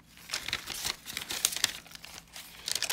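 A plastic bag holding recipe cards crinkles steadily as it is handled up close, a continuous dry rustle with brief louder crackles and no talking.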